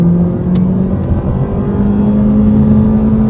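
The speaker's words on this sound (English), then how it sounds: "We try out another acceleration off the line." A 2024 Honda Civic Sport Hatchback in sport mode pulling away hard from a standstill, a steady loud engine drone rising slightly in pitch from inside the cabin, with no talk.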